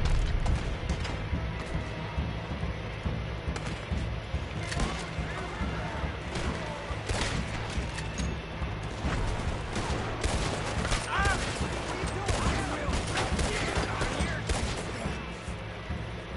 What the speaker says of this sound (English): I love the shooting in this game